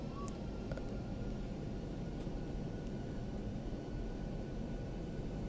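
Aircraft engine rumble in the X-Plane 11 flight simulator on approach, a steady, dense drone holding at a constant level throughout, with a few faint tones near the start.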